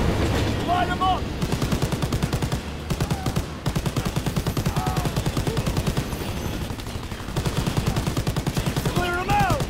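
Rapid, sustained machine-gun fire rattles through a WW2 video game, with dense repeated shots and brief pauses, loud and close, while voices shout and talk over it.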